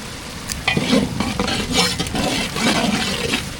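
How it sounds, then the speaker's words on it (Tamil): Ginger garlic paste sautés with onion and tomato in hot oil, giving a loud close sizzle broken by repeated scraping stirs of a spoon against the pan, with no talk. "தக்காளி வெங்காயம் நல்லா வதக்கிடுச்சு அது கூட இஞ்சி பூண்டு பேசி சேர்த்துக்கலாம்"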